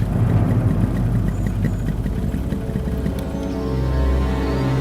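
A motorbike engine idling after coming to a stop, a steady low rumbling chug that stays loud and close throughout without speech.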